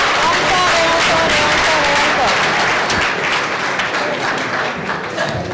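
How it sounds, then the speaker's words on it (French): Continued audience applause for author Ibrahima Baldé at a public speaking event, a thick, loud wash of clapping throughout, with a voice talking over it early on. "Des applaudissements encore, il est ému, hein?"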